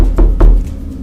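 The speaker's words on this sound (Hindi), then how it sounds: "तो उसे किसी के खटखटाने की आवाज़ सुनाई देती है।" Two heavy knocks land on a door in quick succession, loud and close, then fade into a low, hollow background for a spooky ghost-story effect.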